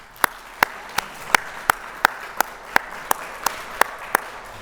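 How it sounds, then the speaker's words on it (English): At an inclusion event, a round of applause comes through as a single clear, evenly spaced clapping pattern, about a dozen sharp claps over quiet room noise. "Please, a round of applause."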